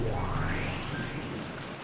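Rain falls in a dense, steady hiss, broad and close, with a faint rising tone sweeping through it, in a dramatized anime fan-dub scene.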